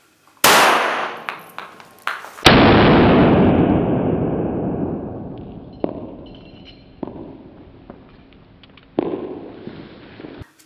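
A shot from a less-lethal traumatic pistol into a gelatin block cracks, followed by a louder blast that rumbles and decays over several seconds, with scattered thuds and clatter of gelatin debris afterward.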